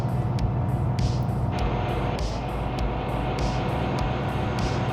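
A capsule bus in BeamNG.drive labours in 2nd gear at about 2200 RPM, giving a steady, loud, droning engine hum with a low rumble that holds level throughout, with no talk over it.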